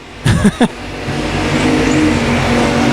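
A race car at a dirt speedway accelerating hard down the back straightaway, its engine building into a steady, loud roar after a few brief bursts of sound at the start.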